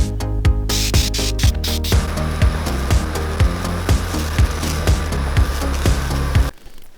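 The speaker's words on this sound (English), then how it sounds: "Favorite spray lacquer." A steady, close hiss of spray lacquer from a spray can onto a resin knife handle runs for several seconds over a thumping background beat, then cuts off near the end.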